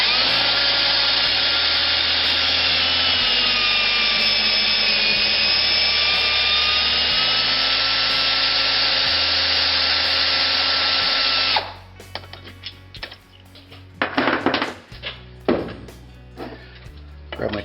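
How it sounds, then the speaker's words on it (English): A power drill running in reverse spins the three-jaw chuck of an Atlas lathe. It gives a steady, close whine for about eleven seconds, then stops, and metallic clatter and handling knocks follow. "Reverse the drill."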